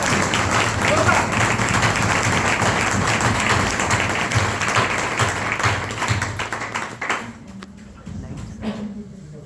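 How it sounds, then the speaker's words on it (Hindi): An audience claps loudly for a mentor at a leadership speech event, dense applause sustained for several seconds before thinning out into scattered claps and quieter room noise. "उनके लिए जोरदार ताली होना चाहिए"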